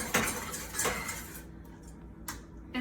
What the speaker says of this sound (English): So this gravy, we're just gonna keep whisking, and you can see it's thickening up now.